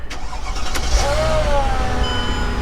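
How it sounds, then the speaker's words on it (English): A car engine runs close by just after starting, with a thin whining idler pulley squeal rising and holding over the steady mechanical hum. "when that first fired up, there was some kind of idler noise or pulley noise"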